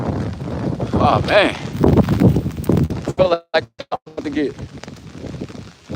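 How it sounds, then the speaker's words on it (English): Strong outdoor wind buffets the microphone in heavy, rumbling gusts while someone talks over it, with brief lulls in the middle. "Why is it so damn windy out here"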